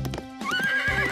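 A cartoon pony stamping its hooves in clip-clops, then giving a bright, rising whinny, close and loud.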